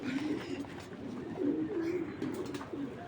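Soft, low coos from racing pigeons at a pigeon farm repeat in a gentle rolling rhythm, close by, with light background noise and no talking.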